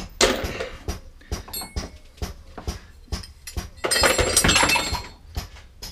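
Metal spacers, nuts and bolts from a Honda scooter are dropped one after another into a jug, giving a run of sharp clinks and clatters, with a denser jangling burst near the end.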